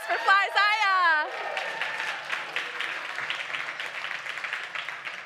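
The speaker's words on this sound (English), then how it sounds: "Can we do one more round of applause for Fly Zaya?" An audience applauds for an 11-year-old singer after her performance, a steady wash of clapping with some crowd noise, following a brief stretch of talk at the start.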